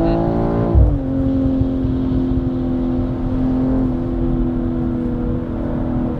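A 2022 BMW M440i xDrive Gran Coupé accelerating hard from inside the cabin, with a steady loud engine drone that jumps in pitch early on and then holds a rising tone through a gear.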